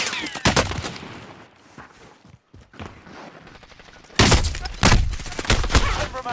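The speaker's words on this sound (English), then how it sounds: "le están disparando de la derecha" Rapid bursts of close gunfire from a video game firefight, sharp volleys at the start and a heavier cluster near the end, with a quieter stretch between and no speech over it.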